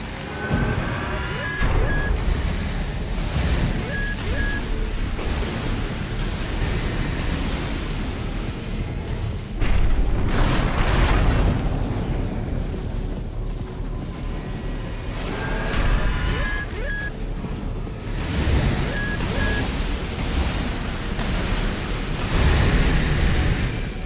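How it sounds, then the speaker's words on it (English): Heavy booming blasts from plasma missiles in Armored Core 6 roll over a dense, roaring mech-combat din, with repeated warning beeps and someone talking over the chaos. "Watch out for those plasma missiles."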